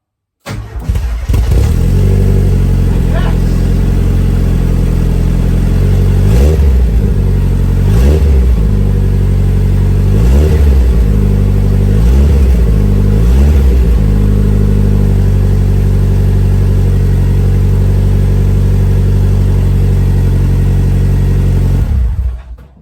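Ford Escort RS Turbo engine cranks and fires, then idles loudly with several sharp revving bursts in a row before shutting off, close and dominant with no talking.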